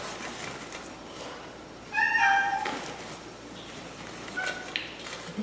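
A pet cat gives one clear, fairly close meow at about two seconds, followed by a fainter short mew later on in a quiet indoor room, with no talking.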